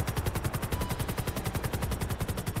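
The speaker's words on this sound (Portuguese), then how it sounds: "O Steve que tomou tiro aqui comigo" Rapid automatic gunfire in GTA 5 rattles in a fast, steady burst of evenly spaced shots, sharp and continuous for a couple of seconds.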